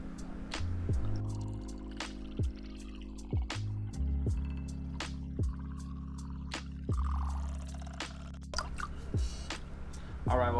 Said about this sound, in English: Let's go ahead and get a slow pour going on.